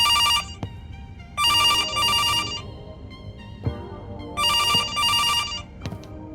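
A telephone rings in a horror video game set in September, with bursts of trilling electronic bell tones that come in two-part pulses, fall silent, then return, loud and close over a low ambient hum.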